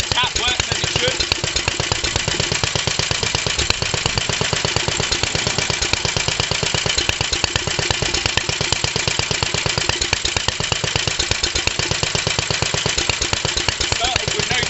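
A 1945 Petter A type vintage stationary engine runs steadily after a first start in 30 years, its close, loud, even beat of rapid exhaust pulses holding a constant rhythm throughout.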